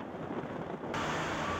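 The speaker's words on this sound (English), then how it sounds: "British Columbia's south coast awoke to a fierce windstorm on Friday morning." A fierce windstorm on British Columbia's south coast in Vancouver, with wind gusts over 100 km/h, is heard as a steady broadband rush of wind buffeting the microphone. The rush surges louder partway through, and no voices are heard.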